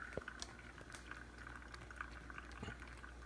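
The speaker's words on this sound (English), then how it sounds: "you get this like bubbling action going" Soft, quiet bubbling and fizzing of wet grounds with light drips, a faint steady gurgle and no voices.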